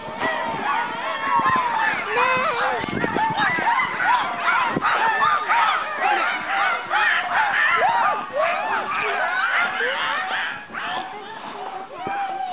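Dolphins calling through their blowholes, a dense stream of whistles, squeaks and honking chirps, loud and continuous, with a crowd audible underneath.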